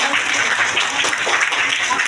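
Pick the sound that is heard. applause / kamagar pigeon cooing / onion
applause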